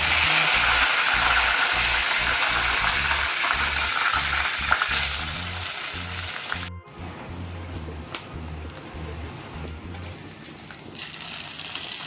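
Vadagam and a sprig of curry leaves frying in hot oil, a loud steady sizzle with crackling and stirring clatter throughout, briefly cutting out partway before the frying continues close and unbroken.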